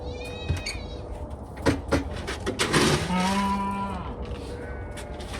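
A hungry cat locked overnight in a farm building meows several times in short, drawn-out calls, close by, with some faint clatter around it.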